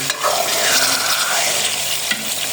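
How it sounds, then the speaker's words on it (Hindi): Loud, steady sizzling of chicken frying in a hot pan with scraping from stirring throughout, no voices. "अब हम डाल देंगे चिकन और इसकी खूब करेंगे बुनाई।"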